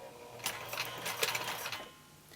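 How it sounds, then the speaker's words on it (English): A sewing machine slowly stitching fabric for a key ring, a soft quick mechanical rattle of needle strokes for about a second and a half, close and quiet, then fading to a faint hum. "And you can slowly start sewing."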